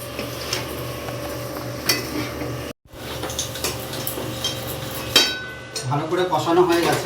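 Spoon scraping and clinking against a pan as fried potato and jackfruit are stirred into cooked spices, with steady background noise, a brief dropout midway and louder clattering toward the end.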